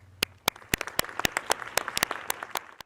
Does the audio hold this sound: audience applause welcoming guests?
yes